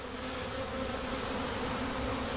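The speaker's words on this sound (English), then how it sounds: "The bees are there." Swarming honey bees buzz continuously in a dense, steady drone, close and fairly loud, with no other sounds.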